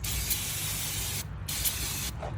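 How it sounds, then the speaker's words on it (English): Aerosol brake cleaner hisses onto the front brakes of a 2022 Toyota RAV4. Three loud, close bursts come in a row, a long one and then two shorter ones, with brief pauses between them. "One last spray to get all that unwanted grease out of the way."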